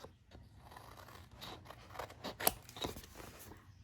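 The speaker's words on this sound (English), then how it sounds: "I'm going to cut these corners so we can miter those in nicely." Scissors snip through the corners of a Christmas planner cover to miter them, giving a few crisp close cuts with light paper rustle and no talking.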